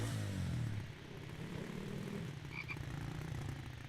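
Frogs croak in The Infected, a dense chorus of low croaking over a constant droning background, with a faint chirp near the end.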